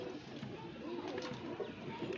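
Burra pigeons cooing steadily at close range for about two seconds, with a constant low hum of other birds and background noise at a flying tournament.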